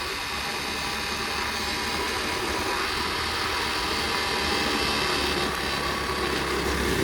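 A 2004 Flywing pit bike engine runs steadily and loudly throughout, a continuous close buzzing drone with no pauses or voices.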